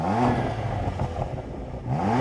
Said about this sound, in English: I love the fact that BMWs let you rev all the way up.